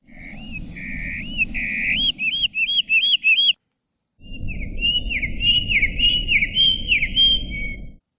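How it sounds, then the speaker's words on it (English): Two hermit warbler song dialects, each a loud, clear bird song of repeated buzzy whistled phrases, separated by a short silence and set over a low rumbling background. "But why would the bird repeatedly alter its song when any changes could affect its ability to attract a mate?"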